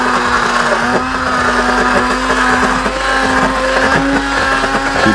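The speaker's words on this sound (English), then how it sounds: "let's use our hand blender and blend it up." A hand blender whirs through peaches for a peach cobbler and ice cream, a loud, steady motor hum with a constant whine and slight churning variation, running alone without speech.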